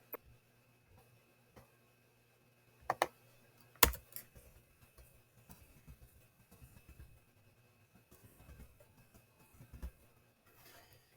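Sparse, quiet keystrokes on a computer keyboard in a hushed room, with a couple of sharper clacks early on and then a scattered run of light taps, no talk.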